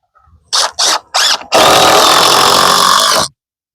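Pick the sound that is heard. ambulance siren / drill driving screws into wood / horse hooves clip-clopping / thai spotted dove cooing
drill driving screws into wood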